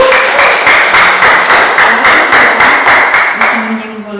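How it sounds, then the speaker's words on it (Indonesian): Rhythmic clapping from a small group, about a dozen even claps in steady tempo, close and loud, fading at the end. "Kita kasih tepuk tangan yang sudah menyimpulkan."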